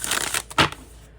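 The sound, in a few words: shuffling tarot cards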